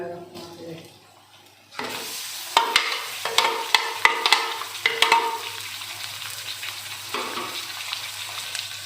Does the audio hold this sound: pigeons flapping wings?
no